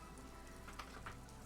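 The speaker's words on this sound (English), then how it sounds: "I can hear rain" Quiet rain in the video game Disco Elysium, a soft steady patter of drops on surfaces heard faintly and alone throughout.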